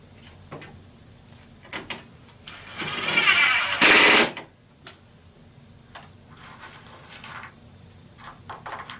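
A power driver whirs for about two seconds, rising and then stopping, as screws are snugged into a ready-to-assemble kitchen cabinet. Scattered ticks and clicks from handling the parts come before and after.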